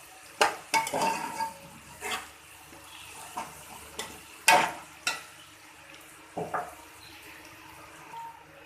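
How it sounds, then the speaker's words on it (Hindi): Garlic paste and onion frying in a pan in a village kitchen, with a soft sizzle beneath repeated scrapes and clinks of a spoon stirring against the metal. "और इसको भी थोड़ा सा फ्राई कर लेंगे लहसुन को।"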